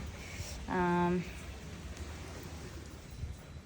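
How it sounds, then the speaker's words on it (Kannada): Heavy rain pours as a steady broadband hiss throughout, with a brief tonal sound near the start standing out above it. "ಅಷ್ಟರಲ್ಲಿ ಮಳೆ ಬಂತು ಜೋರಾಗೆ"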